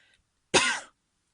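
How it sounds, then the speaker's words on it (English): A single short, harsh cough bursts out after a moment of quiet, close to the microphone, then silence follows. "the token cough has made its appearance"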